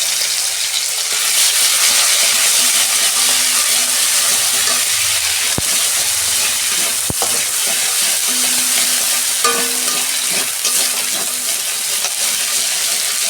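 Fish that has already been fried sizzles loudly in a hot pan as ginger, garlic and dried chili paste goes in. The frying is continuous, with stirring and a few sharp clinks of a utensil against the pan.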